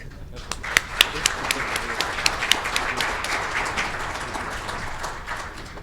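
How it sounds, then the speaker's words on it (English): Conference attendees applaud for Mike with a moderate, even clapping that has a few crisp individual claps popping out close by, sustained for several seconds before tapering slightly. "So a round of applause for Mike."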